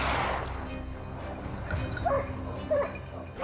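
Bull Arab hunting dogs give a few sharp barks and yips, a bright bark near two seconds and another near 2.8 seconds, heard over a steady, noisy outdoor background with no talking.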